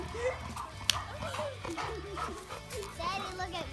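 A neighbours' dog barks and whimpers in a backyard. The short yips and whines sit under ongoing talk and children's voices.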